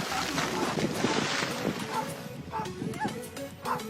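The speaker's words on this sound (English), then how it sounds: "when a small dog ran into 6 seals, they all got quite scared of the dog" A small dog barks at seals outdoors, giving a few short, sharp yaps over heavy wind noise and a busy, rustling background, with voices faintly audible.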